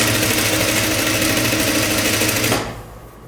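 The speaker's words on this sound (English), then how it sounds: "start sewing from the sleeve to the middle point and all the way to the side bottom" Sewing machine stitching the side seam of a jumpsuit from sleeve to hem, a steady close whirring run that stops abruptly near the end.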